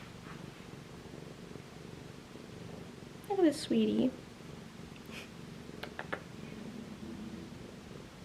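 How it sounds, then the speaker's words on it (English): A pet cat purrs softly, a low, faint rumble close by, while someone speaks over it. "She's purring."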